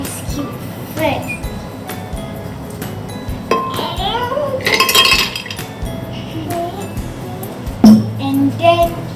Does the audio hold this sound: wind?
no